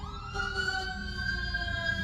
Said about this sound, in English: as the sirens go past